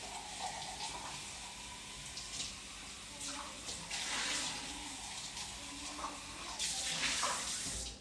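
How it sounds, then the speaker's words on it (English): Water from a tap splashes and gurgles while a Nutribullet blender is rinsed in a kitchen sink, steady and close with a few louder surges, no talking. "I'm rinsing my Nutribullet."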